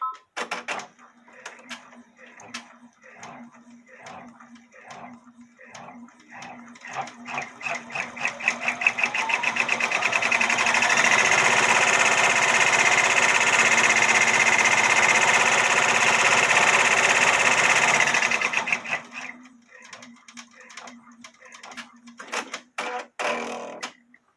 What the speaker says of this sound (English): Now we'll do the tack down stitch for the fishing pole.